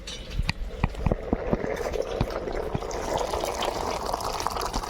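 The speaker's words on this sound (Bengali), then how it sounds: "এবার আমি ডালটাকে ভাতে দিয়ে দেবো" Cooked, softened lentils are poured into soft rice for khichuri. The pour is a steady, close, wet gushing and sloshing with small splashes, continuous throughout.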